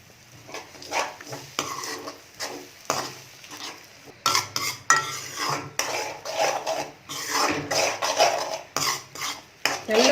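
A spoon stirring and scraping an egg puttu mixture with garlic around a pan, giving uneven bursts of metallic clatter and scraping over a low sizzle, close by with short pauses between strokes.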